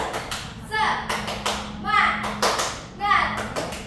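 Tepuk semangat, a rhythmic clapping pattern done in a microteaching class, with sharp grouped claps in repeating bursts and children's voices chanting along.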